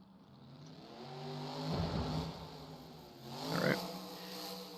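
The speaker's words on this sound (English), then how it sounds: "Getting the truck started, he's coming out of the tunnel." A monster truck engine fires up and revs in an arena, two rising roars swelling from a low idle, heard at moderate distance and fairly faint.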